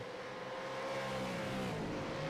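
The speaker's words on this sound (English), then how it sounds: "We like the car sounds." Race car engines in an iRacing broadcast of a V8 Supercars championship round, a faint steady drone of several cars running at speed, held low in the background with no talking.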